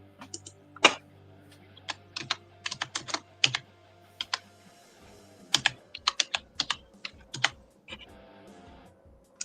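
Typing on a computer keyboard, close and fairly quiet, with irregular bursts of sharp key clicks separated by short pauses, heard alone over a low background hum.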